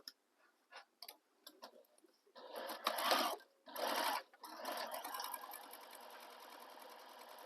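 A sewing machine bastes a sling bag's fabric together along the bottom edge with a long stitch length, starting in short stuttering bursts, then running in steady close-up runs with brief pauses and a lighter continuous hum.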